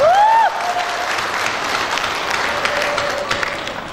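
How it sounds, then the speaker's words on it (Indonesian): Applause rises from an audience at a company recognition day honoring a guest, a dense steady clapping that fills the room for about four seconds, with a faint tonal whistle at the start. "Berikan aplaus yang meriah untuk beliau, Bapak Yulianto Dwi Prastolo"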